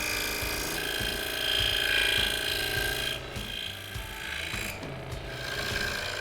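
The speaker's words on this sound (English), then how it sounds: "you'll notice how the blade cuts differently going across the grain than it does with the grain" A scroll saw cuts through wood with a continuous close buzzing rasp of the reciprocating blade, the tone shifting slightly as the cut changes direction.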